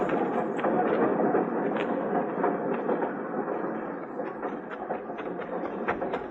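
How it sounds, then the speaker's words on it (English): A steam train in an old Western radio drama, with a rhythmic chugging and clattering of rolling wheels, loud and close, holding steady with regular clacks. "Get on the train, Flora."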